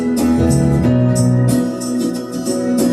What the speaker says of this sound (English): I'm going to put a backing track on